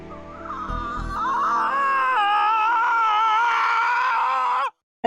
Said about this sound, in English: I think you could just use that scream.